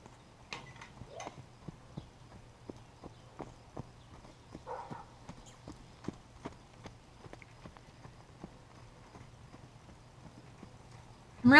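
Wild mustang mare's hooves clip-clop in a steady, moderately paced rhythm while she moves around a round pen, close and fairly soft over a low background hum, with a brief louder noise at the very end.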